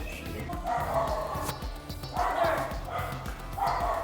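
A dog barks repeatedly in loud bursts of yips and woofs spaced about a second apart, close by, over a muddled background.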